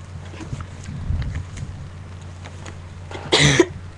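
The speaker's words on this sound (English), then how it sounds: "I'm sorry about my cough." A single short, sharp cough close to the mic near the end, preceded by quiet room noise and faint rustling.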